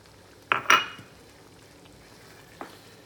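Onions tossed into a hot pan in a home kitchen: a sharp clatter and brief hiss around the half-second mark, then a quiet stretch ending in one light clink.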